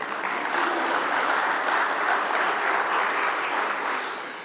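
A crowd at a company annual general meeting claps steadily, a dense wash of applause that holds for several seconds before starting to taper at the end, with no voices over it.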